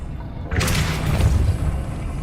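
Depulso force spell cast in Hogwarts Legacy: a sudden whooshing burst with a deep booming thump, swelling after half a second and then rumbling on briefly.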